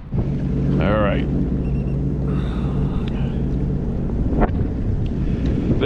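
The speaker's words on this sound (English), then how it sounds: "just the sound of the engine, of the Sea-Doo, the wind and the waves, and me breathing" Sea-Doo personal watercraft running on the upper Niagara River: a loud, steady engine drone under heavy wind buffeting and slapping waves, with a whine rising and falling briefly.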